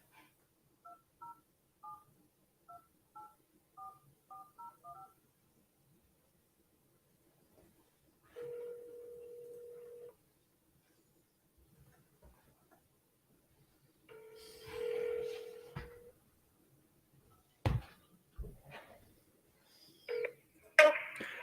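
A real estate wholesaler's cold call is placed on a phone: about nine quick, evenly spaced dialing beeps, then two sustained ringback tones, followed by a few sharp clicks and brief faint sounds near the end.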